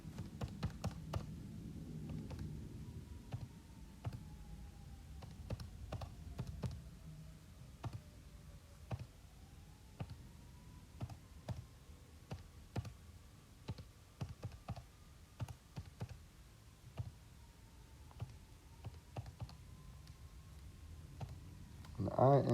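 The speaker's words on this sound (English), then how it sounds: "let's type that in just the way you see it" A calculation being typed in during a math lesson, with soft, scattered key clicks running throughout under a faint hum and quiet low background sound.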